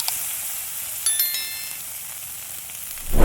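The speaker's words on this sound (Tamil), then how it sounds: "அடி பிடிக்காத மாதிரி நல்லா ஒரு பரட்டிடலாம்" Masala being sautéed and stirred in a pan for curry leaves chicken curry, a steady close frying sizzle with a couple of light metallic clinks of the spoon against the pan, no talking.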